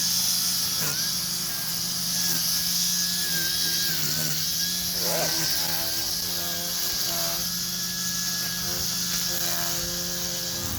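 A RYOBI 40-volt lithium-ion cordless long-reach string trimmer runs at a steady high-pitched whine, close and continuous throughout, with no talking.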